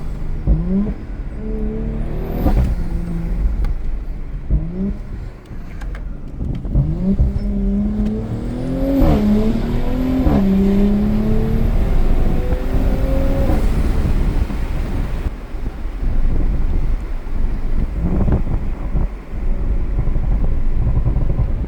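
An Audi S5 engine revving hard through a newly fitted exhaust at a car meet, loud and close, rising and falling in repeated aggressive pulls with a deep rumble and sharp throttle blips, and no voices over it.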